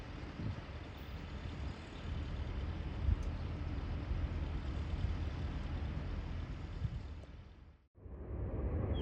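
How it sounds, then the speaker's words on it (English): Freight train diesel engines growl across the river at a narrow passage near Cascade Locks. The rumble is low and steady, with broadband wind and water noise, and it cuts off briefly near the end before resuming. "it doesn't take long for the sound of growling engines to reverberate across the waters."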